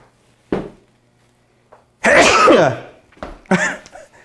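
A sudden sneeze bursts out close by, followed by a few short throaty coughs and huffs in an otherwise quiet room.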